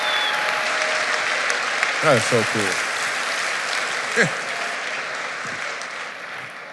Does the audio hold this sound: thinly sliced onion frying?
no